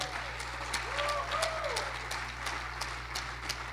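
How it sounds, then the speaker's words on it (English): Applause at a Jewish community gathering welcoming a JCC Global leader, a moderate bed of crowd clapping with scattered sharper claps, a low steady hum beneath and a voice faintly sliding through the middle. "Let's give her a round of applause"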